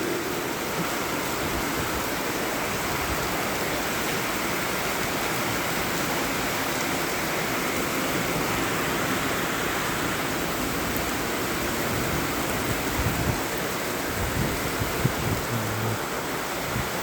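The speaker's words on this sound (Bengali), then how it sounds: "বৃষ্টি" Steady rain falling on a morning outdoors, a dense, even hiss that continues unbroken at a constant moderate level, with no voices over it.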